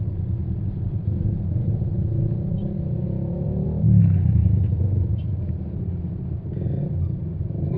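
Cabin of a Hyundai Palisade Signature 2.2D diesel driving in congested city traffic: a steady low engine and road rumble inside the car, fairly constant with a brief swell midway, no talking.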